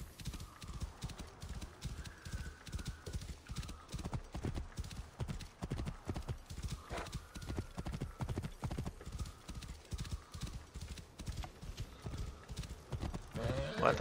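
Steady clip-clop of horse hooves trotting throughout in the video game Assassin's Creed Origins, with a brief whinny and some game-style background ambience, fairly close and continuous.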